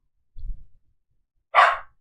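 A pet dog barks indoors, a low thump of movement followed by one sharp, loud bark close to the microphone, then quiet.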